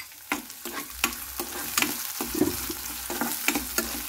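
Boiled peas for a samosa filling are stirred in a hot pan, regular spoon scrapes and taps about every third of a second over a soft, continuous sizzle, close and without voices.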